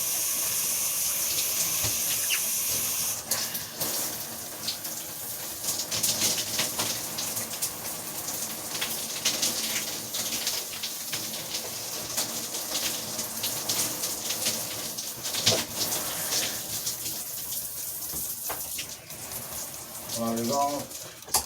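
Running shower water at home, a steady hiss of spray falling continuously, close and fairly loud, with a person speaking intermittently over it.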